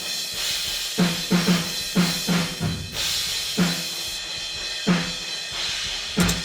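A snare drum through room microphones without EQ plays a steady, roomy pattern, its hits ringing with a natural, open tone and a wide ambient decay between strokes.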